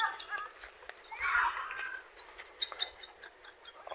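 Turkeys and other fowl on a small farm give a run of short chirps and calls, with a brief louder squawk near the middle, all fairly faint against quiet surroundings.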